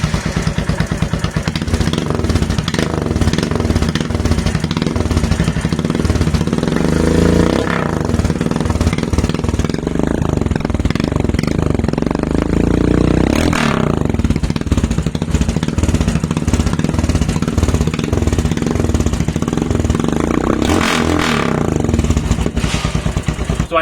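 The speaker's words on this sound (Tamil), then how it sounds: "ஸோ இப்போ டிவி கில்லர் இல்லாமல் சைலன்சரை ஸ்டார்ட் பண்ணி காமிக்கிறேன்." A Royal Enfield Himalayan fitted with a Red Rooster exhaust, dB killer removed, starts and idles with a loud, close, thumping single-cylinder beat, revved hard twice with rising roars before settling back.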